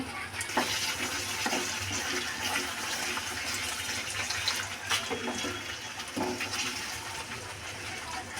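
Water is poured into a pan of cooking masala for a curry, a steady rushing pour with faint splashes and clinks, close and fairly quiet, with no talk.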